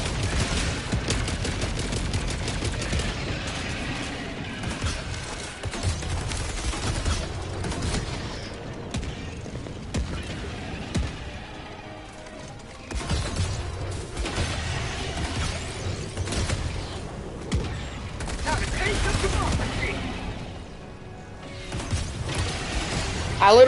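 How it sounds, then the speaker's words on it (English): Mortar sentries in Helldivers pound away at a bug breach, dense bursts of mechanical firing and impacts rolling on without a break and mixed with game noise, while a voice talks over them. "So the mortars are going to be shooting at that bug breach."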